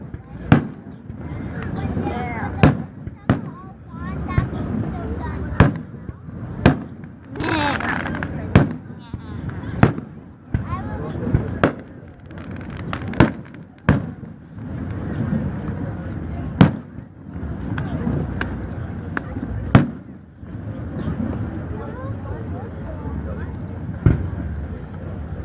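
A rapid-fire fireworks display outdoors: loud sharp bangs keep going over a rumbling, crackling wash, and voices can be heard in the background.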